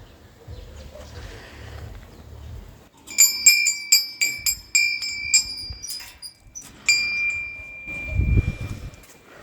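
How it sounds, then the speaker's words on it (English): A bell rings at a guest house, with several bright metallic strikes close by and each tone ringing on, followed by a later strike. Soft rustling and handling noises come before and after. "We're gonna ring the bell."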